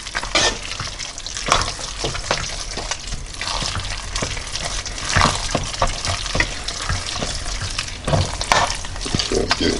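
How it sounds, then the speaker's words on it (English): Gooey three-cheese macaroni and cheese stirred in a hot pot, a steady wet squelching and sizzling with spoon scrapes and sticky slaps, close and continuous for the whole stretch, no talking. "I'm just mixing, stirring and swirling."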